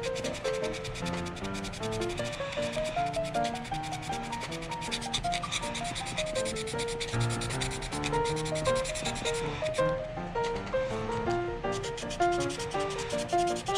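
Sanding on a plastic 1/32 Aoshima Hino truck bumper, a steady close rubbing with rapid back-and-forth strokes throughout, with background music playing underneath.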